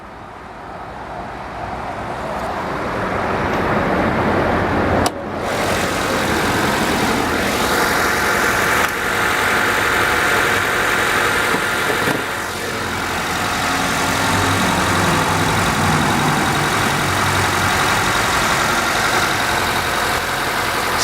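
A 2012 Acura TSX engine idles under the open hood with a steady, even hum and broadband whir, close and continuous, plus one brief clunk early on and no speech.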